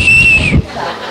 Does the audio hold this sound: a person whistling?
yes